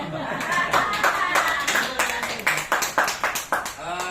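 An audience at an indoor seminar claps in unison, a run of sharp, evenly paced claps building into a steady rhythmic beat, with a speaker's voice running over the start.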